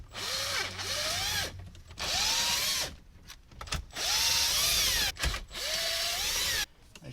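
A power drill unfastens 7mm bolts holding a CD player in a 2015–2021 Ford F-150 dash, running in several rising-then-steady whirring bursts separated by short pauses and clicks, close and loud with no talk.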